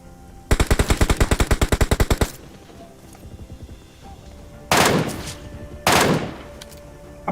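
Rapid burst of MK14 rifle fire in PUBG Mobile, a loud, fast even volley of about fifteen shots, followed after a pause by two separate loud, noisy blasts, with no talk.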